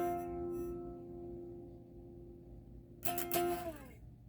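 Electric guitar plays a sliding intro riff: sustained notes fading into a brief pause, then a sharper attack near the end with a downward slide, heard alone at moderate level.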